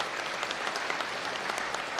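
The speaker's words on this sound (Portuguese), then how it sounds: "Uma salva de palmas a Frei Sérgio" Steady, dense applause fills a solemn session of a municipal chamber marking 30 years of a farmers' movement and honoring a friar, with many hands clapping evenly and no voices over it.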